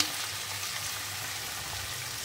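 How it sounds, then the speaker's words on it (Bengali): Onion and capsicum fry in hot oil with a steady, even sizzle that continues without a break. "তেলের উপরে পেঁয়াজ আর ক্যাপসিকামটা দিয়ে দিয়েছি, হালকা হালকা ভাজা ভাজা হয়েও গেছে"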